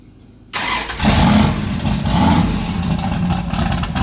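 A turbocharged Mopar car engine cranks and catches after a short quiet lead-in, then settles into a loud, steady idle with blips of revving, close up at a Hot Rod Power Tour stop in Pomona.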